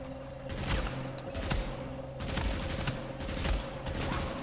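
Gunfire in The Division's Underground mode, rapid automatic bursts repeating in clusters over a low humming background, fairly distant and moderate in level, with no talk.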